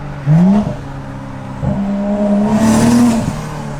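A loud straight-piped BMW M340i exhaust with an open dump revs sharply twice, rising in pitch with a raspy roar, close by, then settles into a throaty drone.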